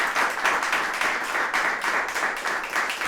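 Audience applause at a talk-show style breakfast event, a dense, steady wash of clapping hands that keeps an even level from start to finish, with no voices over it.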